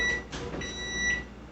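An oven timer gives a few short, high-pitched electronic beeps, clear and close, in a quiet kitchen with no talking.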